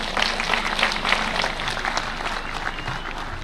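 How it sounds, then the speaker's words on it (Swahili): A large audience applauds the President of Senegal at the 2025 Mashujaa Day celebrations in Kenya: steady, dense clapping that fills the space evenly from start to finish. "Wapi makofi ya Rais wa Senegal jameni."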